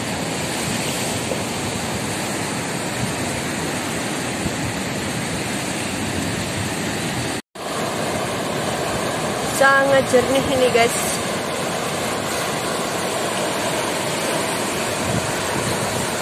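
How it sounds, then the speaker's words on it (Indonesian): Ocean waves at Rowo Gebang Beach, tucked behind a forest, roll in as a continuous loud wash of surf, with a person speaking briefly over it. "Ombak datang."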